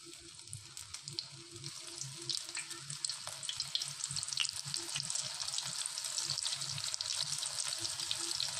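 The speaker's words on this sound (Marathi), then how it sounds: "आता आपण सोयाबीन तळून घेऊ।" Soybean chunks are deep-frying in oil in a wok, making a soft, steady bubbling sizzle with crackling spatters and low gurgles throughout.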